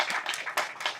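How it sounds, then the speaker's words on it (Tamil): An audience at a Tamil felicitation event for the lyricist Vairamuthu claps. There is a brief, moderately loud burst of scattered hand claps with uneven rhythm, and no clear voices. "இப்போது நான் சொன்ன பிறகு இந்த சபை கைதட்டுவதை பார்த்து"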